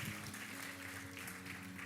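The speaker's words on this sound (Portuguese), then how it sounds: "Tome o seu lugar aplaudindo ao Senhor." A church congregation applauding, steady continuous clapping that fills the room, with a sustained organ or keyboard tone underneath and no talk.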